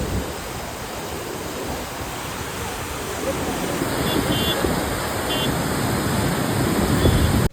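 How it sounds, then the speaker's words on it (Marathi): Turbulent water rushes from the opened gates of Khadakwasla dam, a steady broadband roar that holds throughout and swells slightly louder toward the end, with faint tonal chirps in the background. "पाणी किती खवळल्यासारखं वाटायला लागले ना"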